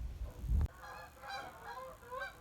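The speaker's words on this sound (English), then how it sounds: "Here's some geese flying over." Geese honking as they fly overhead above a cold, windy pasture near a road, a series of distant, nasal calls repeating irregularly after a brief burst of wind noise at the start.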